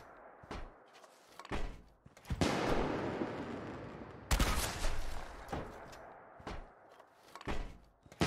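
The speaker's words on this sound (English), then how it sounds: "So it can shoot fireworks." Mortar weapon in the video game Don't Starve launching fireworks: a run of sharp thumping shots and bursts at irregular intervals, some followed by longer crackling, hissing blasts, loud and close with no talk.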